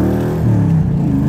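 A 1965 Cobra GT replica with a stroker engine and Jaguar rear end revs at half throttle, a loud, close, deep rumbling drone with wavering pitch and no talking over it.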